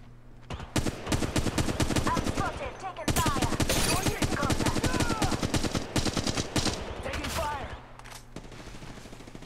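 Rapid automatic gunfire from Apex Legends Mobile rattles in repeated bursts with short gaps for reloading, loud and close, while a voice talks intermittently underneath.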